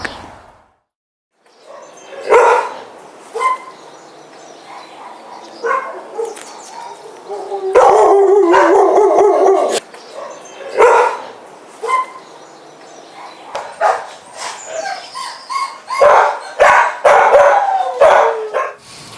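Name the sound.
dogs barking in kennels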